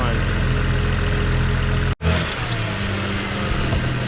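A BMW 335i with the N54 engine idling with its pulleys and belts spinning, a steady close mechanical hum broken by a brief dropout, then continuing with a faint whine.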